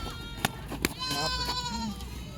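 Kathiawadi goats bleat close by in a quavering, drawn-out call, preceded by two sharp knocks, with faint voices in the background.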